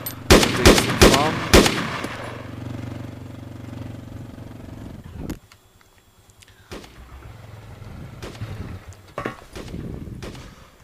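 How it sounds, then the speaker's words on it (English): Rapid bursts of automatic gunfire in a multiplayer shooter match, loud and close at the start, then scattered fainter shots over a steady engine hum. "He's taking some shots at the eastern farm."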